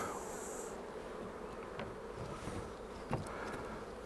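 Honey bees buzzing around an opened hive during a spring inspection, a soft continuous close drone with a few brief taps and knocks.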